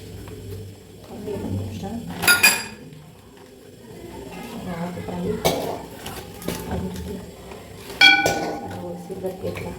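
Steel kitchen vessels and cutlery clink and clatter during home cooking with oil, in sharp bright bursts scattered over a quiet background, with a low voice murmuring in places.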